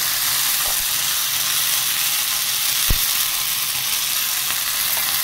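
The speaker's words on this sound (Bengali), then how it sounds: "চলো, জিরে ফোড়ন দিই, এবারে আদা বাটা দিলাম" Cumin seeds and ginger paste sizzling in hot oil while cooking a potato, pumpkin and fish-head curry, giving a loud, continuous frying hiss with a few sharp pops and clinks of stirring.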